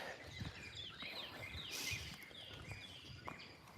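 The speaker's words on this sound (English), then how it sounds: "You can hear the birds." Birds sing at sunrise outdoors, thin high chirps scattered over a soft background hiss, fairly faint and distant, with light shuffling sounds in between.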